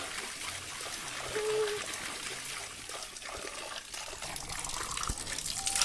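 Water trickles and dribbles steadily from a natural water source, a soft, close, continuous flow with faint voices and movement in the background.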